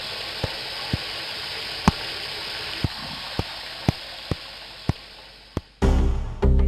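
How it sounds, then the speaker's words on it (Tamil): Falling water hisses as a steady bright wash, punctuated by regular sharp ticks, then gives way to a sudden louder rushing burst near the end, with no voices. "தண்ணி விழுற சத்தம் கேக்குது"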